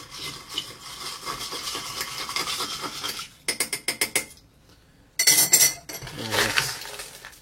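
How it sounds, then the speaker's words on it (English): Crushed ice being churned in a glass, with gritty scraping and rattling in bursts, a stretch of rapid rhythmic clinks, short pauses, then more loud crunching up close. "let's add crushed ice. Let's churn a bit."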